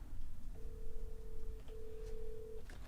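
A telephone call rings out on the line: two long, steady ringback tones with a short gap between them, heard faintly over a low background hiss.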